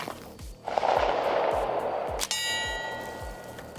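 Suppressed shots from an Armscor M1600-K .22LR rifle, an M16-style rifle, sound as soft muffled pops. A metallic clang or ding rings out partway through, and a faint ringing tone lingers after it.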